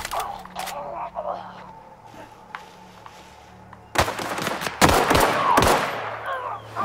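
Pistol gunshots in the game The Outer Worlds, a few loud close cracks in quick succession after a quieter stretch of ambient hum, with a voice talking near the start.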